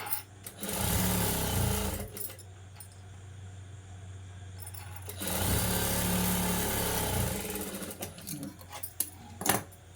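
A tailoring sewing machine runs two long whirring stitching bursts while stitching a puff sleeve. Each burst rattles steadily for a few seconds, separated by a quieter stretch, followed by a few handling clicks near the end.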